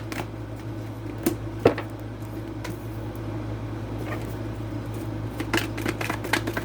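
Tarot cards being shuffled, with soft papery riffles and flicks over a steady low hum and a few sharper card snaps, close and moderately quiet with no talk.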